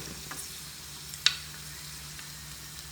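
Garlic dropped into a pan of sauce that is not yet very hot gives a soft, steady sizzle with one sharp clink of a utensil partway through, no talking.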